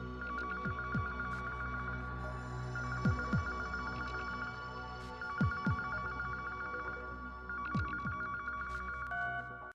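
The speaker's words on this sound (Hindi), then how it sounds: "ये बेटा फोन बजे जा रहा है" A telephone rings repeatedly in a steady electronic trill, bursts separated by short gaps, with low background hum and occasional thumps underneath.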